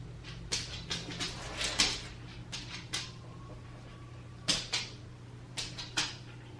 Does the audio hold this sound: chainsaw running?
no